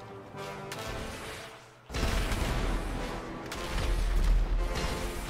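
Gunfire and explosions in GTA V Online crackle and boom in a dense barrage, with a sudden louder burst of blasts after a brief lull, continuing heavily to the end.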